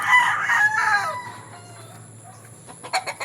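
A rooster crows loudly and close by, one long drawn-out call, followed by quieter clucking and scattered fowl noises.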